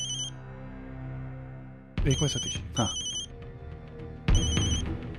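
A telephone rings in repeated bursts, loud and close, with a voice briefly answering between the rings.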